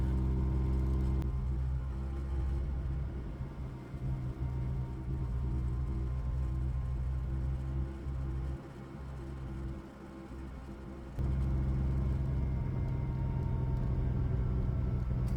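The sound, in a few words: supercharged car accelerating on the road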